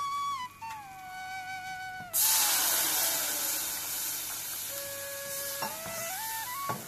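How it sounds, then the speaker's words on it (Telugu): Milk is poured into a pan of fried flour roux for white sauce and stirred, a sudden broad wash of sizzling and bubbling bursting in partway through, then steady spoon stirring with background music and no talk. "ఇప్పుడు ఇందులో మిల్క్ వేసుకుందాము."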